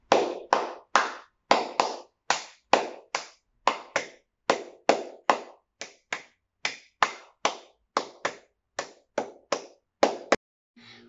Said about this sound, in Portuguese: E também, como não, as palmas.